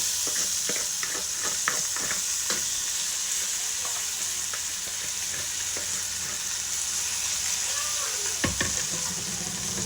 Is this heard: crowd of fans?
no